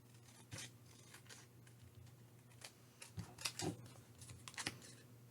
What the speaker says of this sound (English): I'm going to go ahead and trim this really quick